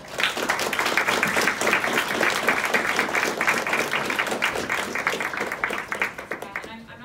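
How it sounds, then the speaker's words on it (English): A live audience applauds panelists at a university planning career fair panel discussion, a dense, sustained wash of many hands clapping for about seven seconds before it tapers off, with some voices mixed in. "Let's give our panelists a big round of applause"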